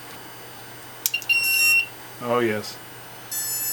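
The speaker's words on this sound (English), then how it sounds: "So, beeps when it's armed." A beeper on a small homemade Simplecopter 3.0 quadcopter gives loud, piercing electronic beeps when armed, in short bursts with a sustained tone at the end. A person speaks briefly between the beeps.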